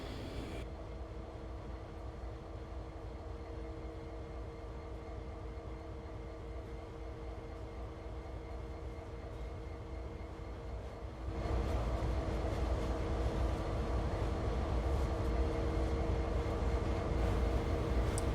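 Diesel rumble of an SD40 locomotive in Train Sim World 2 as it throttles up in reverse, a steady low drone with engine harmonics that steps up sharply in loudness partway through and holds.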